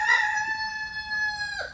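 A rooster's drawn-out crow rings out clearly and close, with a brief cluck near the start among a flock of chickens; no talking.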